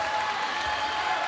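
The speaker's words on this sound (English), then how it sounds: "Crowd is going wild." Crowd at a sports game in New York cheering and applauding, a steady dense wash of clapping and voices at moderate level throughout, with no distinct speech.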